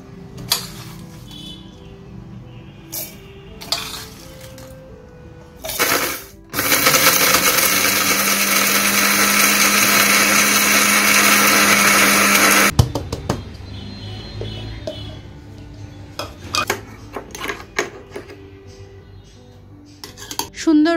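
A kitchen mixer grinder grinds roasted spices into powder, a loud steady whir running for about six seconds before cutting off, with clinks of utensils and handling around it.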